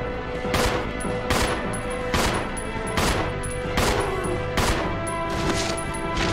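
Gunfire in the survival horror game Resident Evil Zero, a run of roughly seven loud, evenly spaced shots cracking over a steady game backdrop, with no talking.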